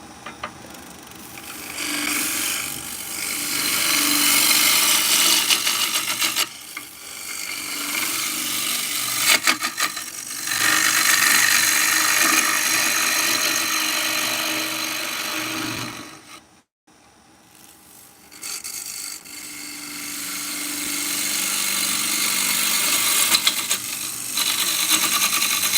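A wood lathe turns as a large gouge hogs out material, a steady close scraping and cutting hiss that runs continuously, drops out briefly about two-thirds through, then resumes, with no talking.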